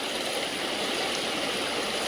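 Floodwater surging through a normally dry river, a steady loud broadband rush of flowing water with no breaks, close and continuous, no voices.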